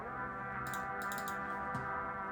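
Two dark, brassy chords on a Notonic synth, dry with no processing, sustaining steadily at moderate level with a faint ticking click near the start.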